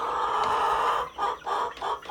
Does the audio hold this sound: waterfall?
no